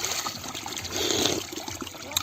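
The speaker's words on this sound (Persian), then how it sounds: "این چشمه آبی خنک" Cold spring water trickles and splashes steadily outdoors, a soft, continuous wash of water that swells briefly in the middle, with no talk.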